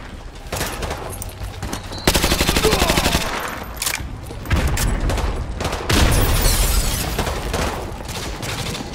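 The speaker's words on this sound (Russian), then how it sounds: "Граната пошла!" A grenade blast and sustained automatic gunfire in Call of Duty Modern Warfare 2 Remastered: loud rapid rattling bursts, a heavy boom around the middle and more fire continuing to the end, with no talking.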